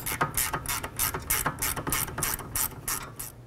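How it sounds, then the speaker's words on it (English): Ratcheting wrench clicking in quick, steady bursts while loosening a rear brake caliper bolt on a 2007-2012 Nissan Altima; close, crisp mechanical ticks with no talking. "Switch over to a ratcheting wrench."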